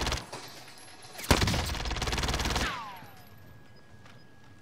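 A dense, rapid burst of automatic gunfire in Call of Duty on Rebirth Island rattles loudly for about a second and a half, then cuts off into quieter game ambience.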